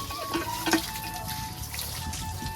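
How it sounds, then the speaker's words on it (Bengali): Running water splashes steadily while feet are rinsed before heading out onto a muddy road, with a couple of brief louder splashes near the start and a continuous trickle throughout. "পাটা আগে একটু ধুয়ে নিই"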